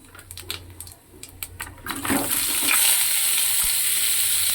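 Panch phoron spices dropped into hot oil for a chutney, a few clinks and stirring sounds, then a loud, close, steady sizzle that carries on to the end.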